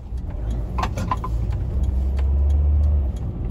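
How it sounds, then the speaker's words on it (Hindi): Road traffic on a rainy day, a steady low car engine rumble that swells toward the end as a vehicle passes close, with faint scattered clicks above it. "आज थोड़ा ट्रैफिक है।"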